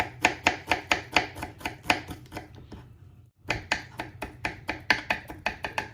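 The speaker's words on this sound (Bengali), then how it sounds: "এখন কোন রসুন ভালো করে কেটা করাম" Garlic chopped with a knife on a board, a quick steady run of sharp close taps that pauses briefly near the middle and then resumes at the same brisk rhythm.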